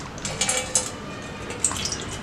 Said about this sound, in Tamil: இப்போ ஒரு அகலமான பாத்திரத்தில் வந்து பால் ஊற்றிக்கலாம்.